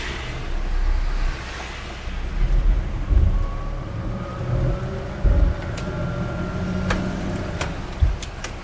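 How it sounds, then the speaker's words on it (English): Low rumbling thunder rolls in the distance beneath steady rain and the droning engine of an Invacar, with a few faint thuds scattered throughout. "Oh, I can hear thunder."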